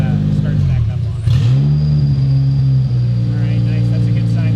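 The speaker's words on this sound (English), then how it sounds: "we'll see if it starts back up on it" A K24-swapped Toyota MR2 engine catches after a brief dip and then settles into a loud, steady idle with a low rumble that holds to the end.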